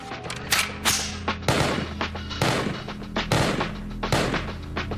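Masada rifle firing AK-47 rounds in rapid repeated bursts of loud, cracking gunshots, close and echoing, with steady rhythmic reports throughout.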